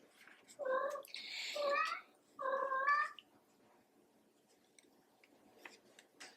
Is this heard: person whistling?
no